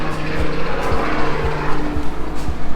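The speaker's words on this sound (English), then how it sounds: "there was a helicopter outside, so it got a little noisy all of a sudden" A loud, steady rotor thumping and engine drone from a helicopter nearby, with a rhythmic chopping pulse throughout.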